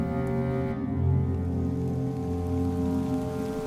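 Steady rain falls in a soft, even patter on surfaces in damp woodland, with a constant hiss and no talk over it.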